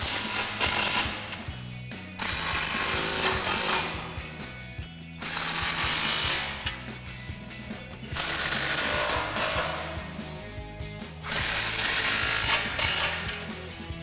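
A ratchet tightens the clamps on an MBRP single exhaust system on a Silverado 2500. Fast, close ratcheting clicks come in bursts of a couple of seconds, separated by short pauses, with no talking.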